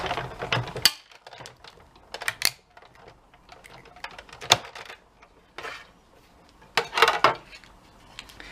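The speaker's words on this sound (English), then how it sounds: "Die cutting tends to be a lot noisier when it's something with a straight edge that you're cutting." A die cutting machine cranks paper through in uneven bursts of ratcheting, clicking mechanical noise, with louder sharp passes near the start, middle and end and quieter grinding between.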